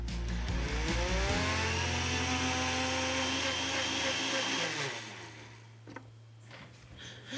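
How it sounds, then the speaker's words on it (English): A kitchen blender whirs loudly, blending mint leaves with cold almond milk in a sustained high-speed roar that drops in pitch and winds down around five seconds, followed by a few light knocks. "And now I'm gonna blend it so that it's really smooth."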